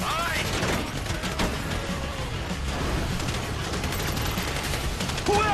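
Rapid bursts of gunfire crackle and rattle in a busy mix, with a couple of sharp rising tones, continuous and fairly loud, during a bank robbery in Grand Theft Auto 5.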